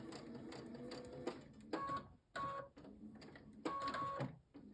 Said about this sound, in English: and sew with your 1/4 inch seam